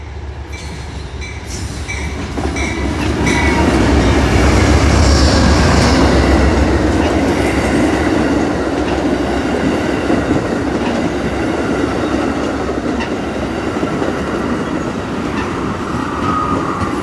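An Amtrak passenger train rolls past over rail diamonds with a loud, sustained rumble, metallic wheel clatter and faint squeal, heard close up with no voices.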